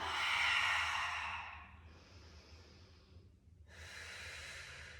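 Deep, audible breathing during a tricep dip exercise, a long strong exhale followed by a quieter breath, a brief pause, then another breath close to the microphone, with no talking.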